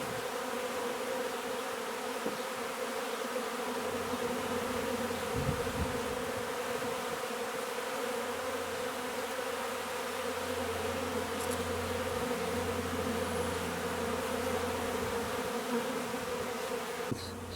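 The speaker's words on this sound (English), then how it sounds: "bees are like when they're upset" A dense swarm of agitated honeybees, freshly installed from a package into a hive, hums in a continuous, loud, close buzz that holds steady throughout without any speech.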